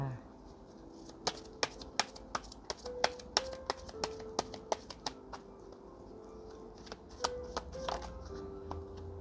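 Tarot cards being shuffled in a series of sharp, close riffle snaps and taps, uneven in rhythm across the stretch, with soft handling noise between the cracks and a quiet room behind.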